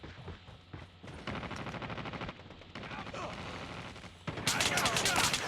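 Rapid bursts of gunfire in a video game hardpoint match, steady automatic volleys through most of the span, then a louder, harsher burst near the end, with faint voice-like sounds mixed in.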